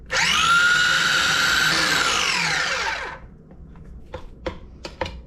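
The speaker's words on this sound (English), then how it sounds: "Now I give it a little spin." A food processor whirs loudly as it spins pesto, a steady high motor whine for about three seconds that winds down, followed by a few small clicks and knocks of the lid and bowl.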